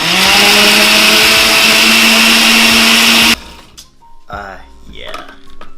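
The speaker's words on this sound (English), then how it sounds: "You saw the blender, you knew it was up." A blender whirs loudly and steadily while mixing an ice cream drink, then cuts off abruptly partway through, after which people talk.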